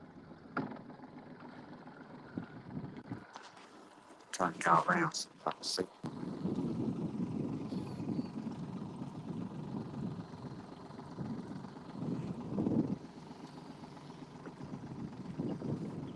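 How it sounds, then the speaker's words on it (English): Boat ride on a creek while out fishing, with a steady low motor drone and wind buffeting the microphone throughout, a few sharp knocks midway, and someone speaking briefly over it. "We go for us a boat ride."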